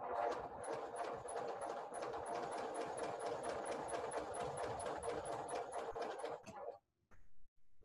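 A sewing machine runs steadily while stitching a fabric face mask, a fast, even mechanical whirr with rapid needle ticks that holds for about six seconds before stopping, followed by a few brief faint handling sounds.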